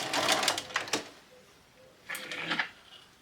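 A sewing machine stitches chiffon and organza on a lace wedding dress in two short close bursts of rapid whirring, with a quiet pause between them.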